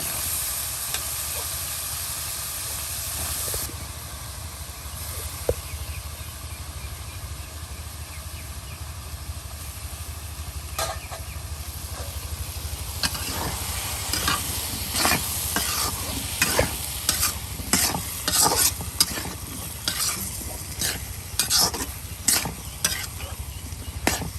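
Gourd pieces go into a hot pan with spices for a shrimp dish and are stirred, giving a steady sizzling hiss that grows busier with rapid clattering spatula strokes and scrapes near the end.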